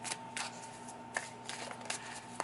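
Tarot and oracle cards shuffled by hand in a quiet room, a few soft riffling bursts and light snaps spaced over a couple of seconds, close and fairly faint over a steady low hum.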